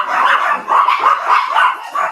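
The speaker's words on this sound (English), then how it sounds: "That sound like 10 dogs." Dogs barking in rapid bursts, several sharp yips and woofs tumbling over one another close by, loud and nearly continuous with brief gaps, no voices under them.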